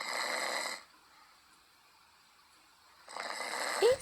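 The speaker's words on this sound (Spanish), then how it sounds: "Esos ronquidos eran tan ruidosos que nadie podía dormir." Snoring in two loud, broad, rasping bursts, the first ending before one second and the second starting after three seconds, with near silence between them.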